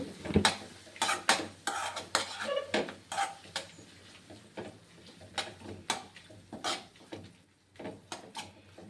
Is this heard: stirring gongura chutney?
yes